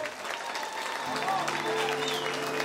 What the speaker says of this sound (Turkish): Alkışla bunu gösterin bakayım.